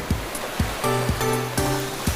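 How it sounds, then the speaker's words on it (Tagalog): Strong waves crash and churn steadily along the shore, a rough rushing wash of water, while a faint tonal hum pulses underneath in short repeated bursts. "kasi sobrang lakas ng alon"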